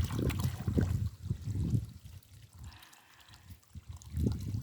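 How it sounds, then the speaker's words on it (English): Water trickling and draining away through soil into a soakaway in a garden, a low gurgling flow that rises and falls, fading to near quiet midway before swelling again. "You can see it's draining a lot better right now."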